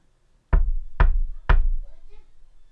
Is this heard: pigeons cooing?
no